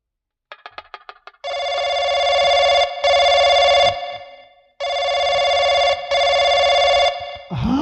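A telephone rings out while a call is placed to a police station: short dial tones first, then loud repeated two-part ring bursts with brief gaps, close and clear, with no talk over them.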